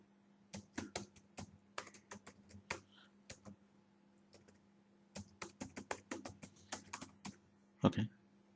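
Someone types on a computer keyboard entering a website address, quick bursts of crisp close key clicks separated by short pauses, ending with a heavier keystroke.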